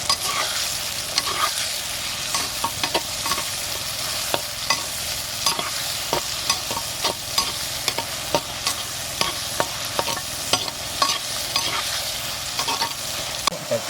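Garlic and tomato fry in hot oil with onion, giving a loud, steady sizzle close by, dotted with frequent crackles and pops and the occasional stir, with no voices.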